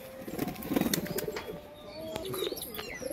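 Several domestic pigeons coo in soft, rolling low murmurs nearby, with scattered sharp clicks and rustles that may be wing flaps, over a steady background hiss.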